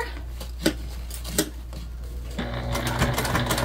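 A domestic sewing machine stitches fabric while a mini pack sewing project is assembled, starting with two sharp clicks and brief pauses, then settling into a steady close whirring run of stitching.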